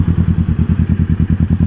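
Kawasaki Z650 motorcycle idling while stopped at a red light, its parallel-twin engine giving a close, loud, even pulsing thump that repeats rapidly and steadily with no other sounds.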